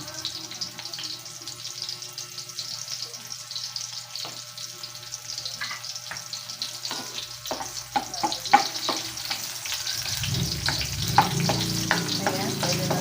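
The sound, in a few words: onions frying in a pan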